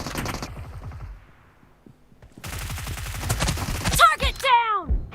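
Gunfire in the mobile battle royale game PUBG Mobile at a grand finale match, with loud bursts of rapid shots and sharp impacts, some overlapping with a voice speaking in between.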